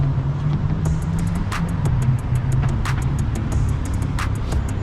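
A 2020 Hyundai Sonata 1.6T Limited creeps along under its self-parking system with no one at the wheel, giving a steady low engine hum close by, with a series of faint high clicks or beeps repeating over it.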